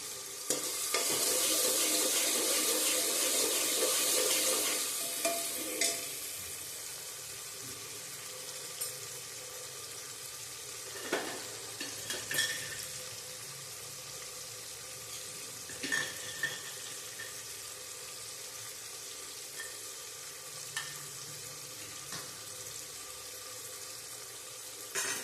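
Dried curry leaves frying in hot oil for a Gujarati vegetable dish give a steady, faint sizzle that is loudest at the start and then settles, with a few scattered clicks and no voices.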